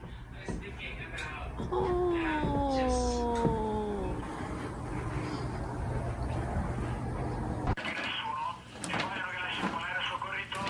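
A cat meows in a long, drawn-out wail that rises and wavers for about two seconds over steady background noise and talk, followed by quieter indistinct sounds.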